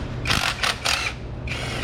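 Ratchet working a 10mm ground bolt on a thermostat housing, three quick close bursts of clicking followed by one more after a short pause.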